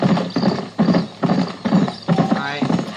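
Horse hooves gallop in the Red Dead Redemption video game, a quick, even clip-clop rhythm of repeated strides heard up close, with a short whinny near the end.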